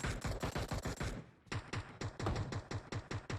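Rapid bursts of automatic gunfire in PUBG Mobile, several quick volleys with a brief pause, fairly faint, no talk.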